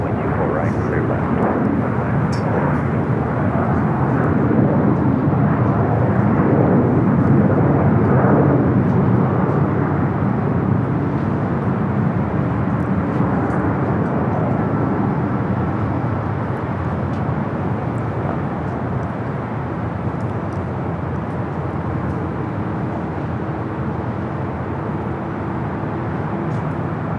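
A jet airliner arriving at LAX on the north side, a steady loud engine roar sustained throughout, with radio-style talk faintly beneath.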